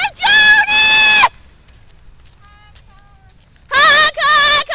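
A person imitates a goose, letting out loud, strained nasal honks: two long blaring calls, a quiet pause with a faint squeak, then two more harsh honks close to the microphone.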